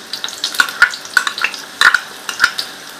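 Onions sizzle and crackle in about three serving spoons of hot oil in a pan, with a spoon stirring and clinking against the metal in an irregular rhythm, close and fairly loud, with no voices.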